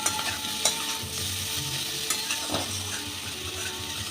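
Pumpkin, potato and bitter gourd sizzle in a pan with salt, turmeric and a little sugar, making a loud, steady frying hiss with a few soft clicks of stirring.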